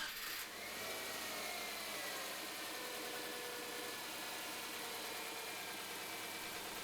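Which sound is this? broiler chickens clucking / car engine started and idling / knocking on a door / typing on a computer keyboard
car engine started and idling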